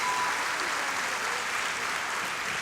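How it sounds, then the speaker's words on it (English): Steady, dense audience applause for Dominic Miller at a school district convocation, a continuous broadband clatter of many hands filling the whole stretch with no voices over it. "Let's give Mr. Miller a big hand clap."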